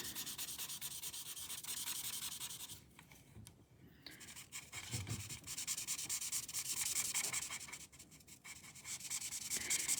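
A chisel nib marker rubs across paper in long, steady scratchy strokes, coloring a hill in a drawing; the close, soft scraping runs almost continuously with brief pauses.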